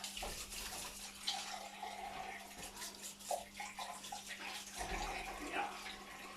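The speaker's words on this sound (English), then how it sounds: "I'm going to have to wash my hands." Tap water runs into a kitchen sink as hands are washed during baking, a quiet steady splashing with small irregular splatters, heard fairly close and alone.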